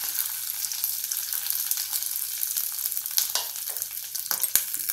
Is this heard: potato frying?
yes